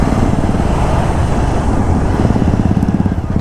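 A Jawa 42 BS6 motorcycle fitted with a modified silencer accelerates with a steady, loud, throbbing exhaust drone that holds continuously throughout, close by and alone.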